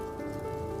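Rain falls on a poor family's hut as a steady, dense patter with no break, heard alone in a brief, quiet moment.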